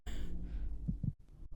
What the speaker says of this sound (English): I hear heartbeats